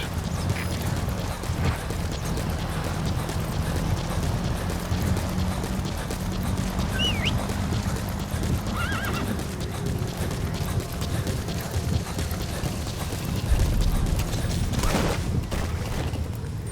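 Rhythmic hoofbeats of a galloping horse run steadily close by, with a brief neigh partway through and a thud near the end, in the video game Metal Gear Solid V.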